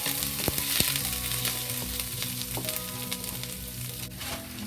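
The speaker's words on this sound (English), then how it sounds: "When the pot is hot, we add the ginger into it. Add 1 teaspoon of ginger." Teaspoon of ginger frying in a hot pot, a steady close sizzle with a few sharp stirring clicks near the start and scattered crackles throughout, no voices.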